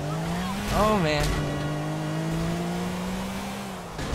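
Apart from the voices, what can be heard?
cars crashing and skidding in video game GTA 4 Carmageddon mod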